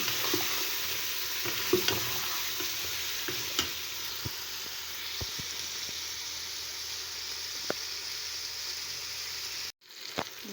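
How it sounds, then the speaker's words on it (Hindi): Beef and bottle gourd fry with yogurt in a pan, giving a continuous close sizzle with scattered stirring clicks and scrapes, then a brief break in the sound near the end. "अब हम इसमें 2 टेबलस्पून दही डालकर इसे अच्छी तरह से भून लेंगे मज़ीद 2 मिनट तक।"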